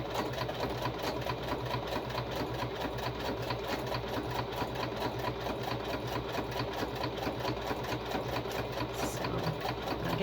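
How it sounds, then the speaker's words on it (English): A sewing machine runs steadily at a fast, even stitching rhythm, close by and continuous throughout. "we'll be done with the sewing machine"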